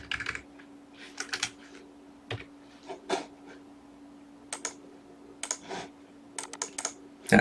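Computer keyboard typing during an HTML lesson, quick irregular clusters of sharp key clicks close to the mic over a faint steady hum, with no voice.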